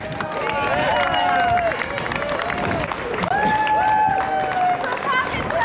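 A roadside crowd along the Brighton Marathon course cheers, claps and shouts, with whistles and voices rising around the runner in lively, continuous bursts.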